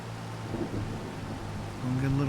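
Rain and a low rumble of thunder in Farming Simulator 25, a steady wash of rainfall with a deep rolling undertone that swells near the end, heard around an open-station tractor.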